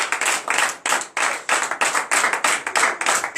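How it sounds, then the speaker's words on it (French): Rhythmic clapping at a Friday-night deliverance and prophecy church service: a steady run of sharp, evenly spaced claps, loud and close, with no talk over it. "Donne l'acclamation dessus"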